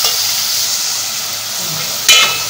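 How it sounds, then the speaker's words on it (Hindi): Ginger-garlic paste frying in a pan for a white lobia curry, a loud, steady close sizzle and hiss with a brief stirring scrape near the end. "इसमें लहसुन चला जाएगा, उसको भूनूँगी।"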